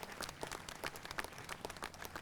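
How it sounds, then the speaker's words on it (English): A college commencement audience applauds, a dense patter of many hands clapping, heard faint and distant throughout with no talking over it. "And they deserve a round of applause."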